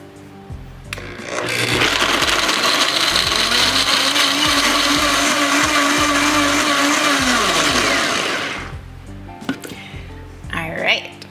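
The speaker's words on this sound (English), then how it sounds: "Then we're just gonna blend." A blender whirs loudly and steadily for about six seconds, chopping garlic and green onions for a sushi salad dressing, then winds down; a few brief kitchen noises follow.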